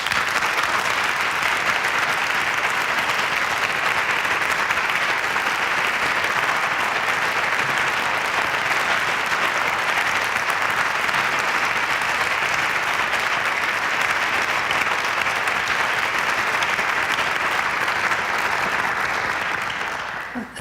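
An audience at a public literary reading applauds at length to welcome a guest author, a continuous full-room clapping that holds steady for about twenty seconds before tapering at the very end.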